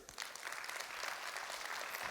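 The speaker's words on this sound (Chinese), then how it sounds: "给他一个热烈掌声" Enthusiastic applause from a crowd, dense clapping that swells quickly and holds steady throughout.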